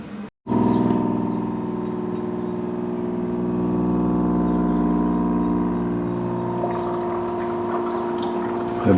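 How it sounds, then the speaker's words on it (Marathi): Internal motor of a Pureit Wave Plus RO + UV + Mineral water purifier pumping water, a loud steady droning hum running continuously after a brief start-up gap, with faint trickling of water near the end. "ही मोटर आतली भरपूर आवाज करते"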